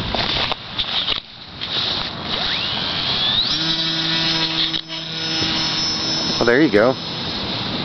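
The electric motor of a scratch-built foamcore RC airplane winds up into a high, steady whine, then holds at full power while someone speaks briefly outdoors.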